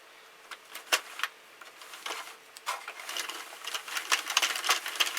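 A Sentro knitting machine cranked through rows of fabric in panel mode, producing a close, uneven run of light plastic clicks and ticks that grows busier and more continuous toward the end.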